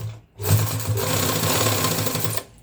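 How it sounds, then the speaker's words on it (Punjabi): A sewing machine stitches a zip onto a school coat in one continuous, loud, rapid mechanical whir of about two seconds, with brief quiet before and after. "ਇੱਥੋਂ ਸਲਾਈ ਲਗਾਉਣੀ ਆ ਧਿਆਨ ਨਾਲ ਥੋੜੀ ਨੀਚੇ ਜਿਪ ਦੇ ਆ ਕੇ ਸੂਈ ਨਾ ਟੁੱਟ ਜਾਵੇ"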